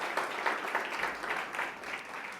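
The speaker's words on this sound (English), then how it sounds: "Let's give him a round of applause." An audience at an energy business conference in Cape Town gives a short round of applause, soft even clapping from many hands lasting a couple of seconds.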